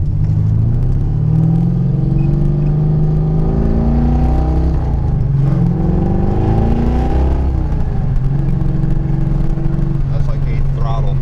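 A 1971 Jaguar XKE fitted with a 383 stroker engine pulls under load from inside the car, its deep rumble rising and falling through several gear-like sweeps, loud and close, with people talking over it.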